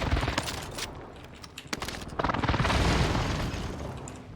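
Air raid explosions in a video game rumble loud and low, with a continuous barrage of booms and crackling bursts building toward the end, with no talk over it.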